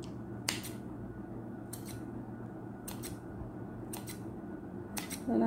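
Scissors snip through rolled, uncooked lumpia spring rolls, five crisp separate cuts spaced about a second apart, close and clear over a quiet kitchen background.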